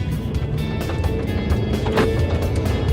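A Kia Optima's 2.4-liter four-cylinder engine runs with a steady, fairly loud hum and rumble, heard from inside the car with no talking over it.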